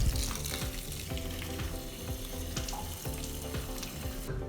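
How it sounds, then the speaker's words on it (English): Pointed gourd (potol) being rinsed at a kitchen sink, heard as a continuous loud wash of running, splashing water with bumps and swishes of handling throughout. "Once again wash the potal."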